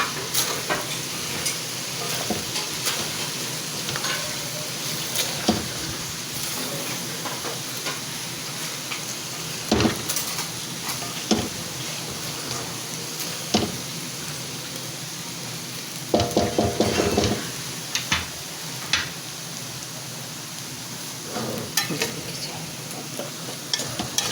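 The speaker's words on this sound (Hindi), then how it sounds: "चाउमीन हमारा रेडी हो गया है, बस इसको अच्छे तरीके से हम मिक्स कर लें" Chicken chowmein sizzles softly in a pan while being tossed and mixed, with intermittent clanks and scrapes of the utensil against the metal and a few louder knocks.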